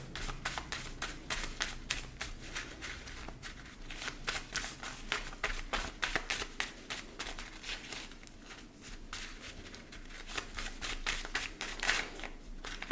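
Homemade post-it note cards shuffled by hand during a pick-a-card reading, a quiet, close series of papery flicks and riffles in irregular bursts, alone with no talk.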